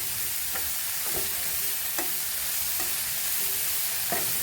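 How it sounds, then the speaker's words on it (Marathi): Dried shrimp (sukat) and onions frying in a pan for a Marathi dish, a steady close sizzle with a few light scraping stirs of a spoon scattered throughout, no talking. "मग आता यामध्ये ना चवीनुसार मीठ घालून घेऊ आणि चांगलं आता कांद्याबरोबर परतून घेऊ आपण."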